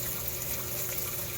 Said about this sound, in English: so you can hear the water running